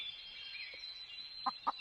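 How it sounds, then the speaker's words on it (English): A video game chicken clucks three short times near the end, faint and brief against a steady ambient game hum. "I hear chickens."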